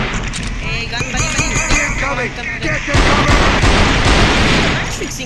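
Rapid bursts of gunfire ring out in a shooting video game, a fast rattling string of shots followed by denser, louder fire, with a player talking over it.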